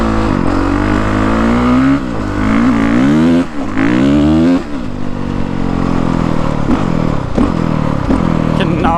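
A 2020 Honda CRF450R dirt bike ridden on trails with a worn rear tire, loud and close, its engine repeatedly revving up and dropping off with rising and falling pitch.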